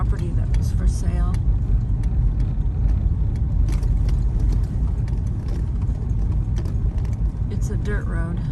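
A car rolls down a dirt road through mountain land, giving a continuous low rumble of tires and engine that stays steady throughout, with occasional faint rattles and a voice talking quietly in places.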